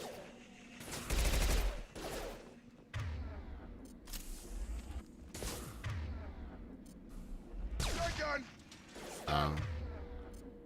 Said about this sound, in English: Let me try my Shuriken pistol.